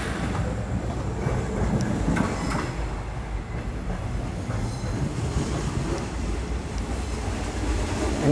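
Gumarang passenger train from Jakarta to Semarang, made up of business and executive coaches, rolling along with a loud steady rumble, rhythmic wheel clatter on the rails and occasional metallic squeals, heard close and continuous.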